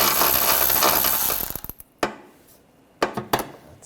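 A ratchet with a 7mm socket loosens a hose clamp on a 2013-2019 Ford Escape 2.0L during AC condenser work: a rapid, close clicking burst, then a few sharp separate clicks.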